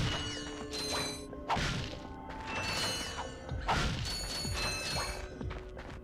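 An elevator mechanism in Ratchet and Clank on Planet Orxon, a series of mechanical clanks, ratcheting whirs and metallic thumps repeating in waves, loud and close with no talking.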